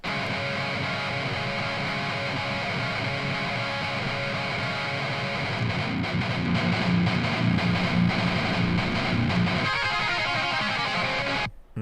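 Heavy distorted metal guitar remaking a song, with thick, saturated chugging and a dense wall of tone holding steady, swelling slightly near the end before cutting off abruptly.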